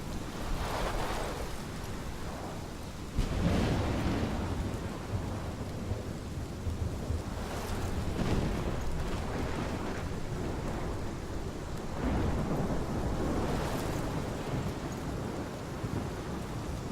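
A thunderstorm in the Life is Strange video game: steady heavy rain hiss with repeated deep rumbling thunder rolls throughout, loud and enveloping.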